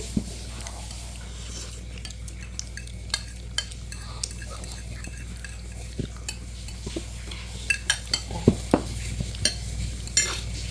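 Steady sizzling of kuetiau noodles frying in a pan, broken by frequent clinks and scrapes of a utensil stirring, growing busier toward the end.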